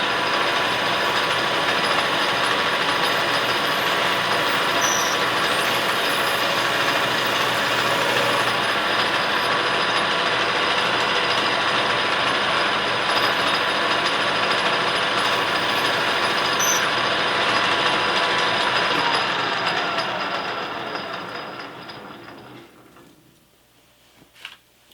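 A lathe-type machining cut roughs in the diameter of a part for a Darex drill grinder, a steady close whirring and hiss that runs loud and continuous, then spins down and fades near the end.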